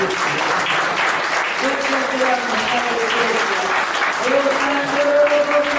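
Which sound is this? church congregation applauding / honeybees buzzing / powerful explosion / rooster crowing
church congregation applauding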